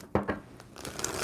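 A tarot card deck being shuffled by hand gives a few quick, close papery riffles and crinkles in a brief burst.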